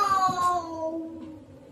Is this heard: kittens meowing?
yes